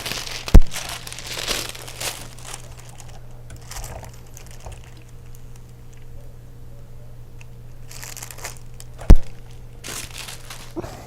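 Plastic shrink film crinkles and crackles under a heat gun on an I-bar shrink wrapper, quiet rustling and ticking over a low steady hum, with two sharp louder pops standing out.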